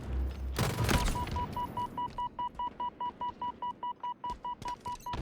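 Gunfire in a competitive Call of Duty-style esports grand final match between Shopify and Optic: a dense burst of shots at the start, then a steady run of rapid electronic beeps over background game noise.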